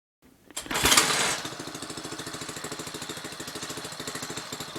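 A two-man Earthquake 9800k auger powerhead with a 12-inch bit pull-starts: a brief sputtering burst catches into a loud roar, then settles into a steady, rapid chugging idle, close by with no talking.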